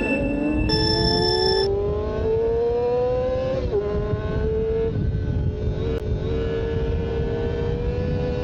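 A Honda motorcycle engine revs loudly and steadily, its pitch climbing over the first few seconds, then holding a sustained high drone with small dips throughout.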